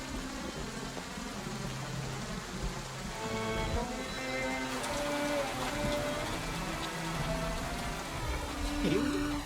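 Heavy rain pours with a constant hiss beneath soft music, fairly faint overall, with no clear breaks.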